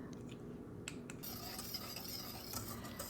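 Whole milk being stirred in a pot on the stove for a chocolate pie, soft scraping and clinking of a utensil against the pot with a low hiss, quiet and close.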